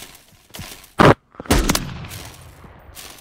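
Gunfire in a video game: a short, loud burst of shots around the one-second mark, followed by a louder crackling volley that trails off into a lingering rumble.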